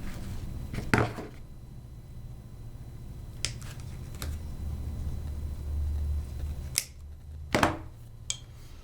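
Wire cutters snipping excess wire while making a ribbon wreath, a few sharp isolated clicks spaced several seconds apart over a low background hum, close and quiet with no talking.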